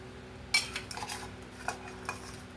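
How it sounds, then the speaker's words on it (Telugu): A spoon stirs raw mango pieces and jaggery in a pot for Ugadi pachadi made with neem flowers. A few light metallic clinks and scrapes sound close and fairly quiet, with no talking. "మామిడికాయ ముక్కలు, బెల్లం కరిగే వరకు కొంచెం కలుపుకోవాలండి"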